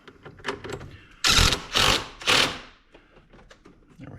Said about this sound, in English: So I'm going to tighten this 12 millimeter back up.